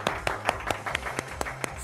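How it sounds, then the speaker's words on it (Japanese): A burst of hand clapping at a studio broadcast announcement, a quick run of sharp, close claps over a low background hum. "拍手、やったね。"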